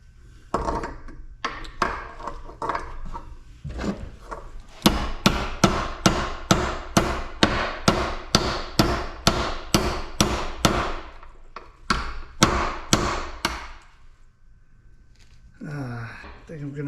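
Sharp, loud hammer blows crimp the cap of a scrapped HVAC solenoid, first in a fast uneven burst and then in a steady rapid series of strikes, with a short pause and a voice speaking near the end.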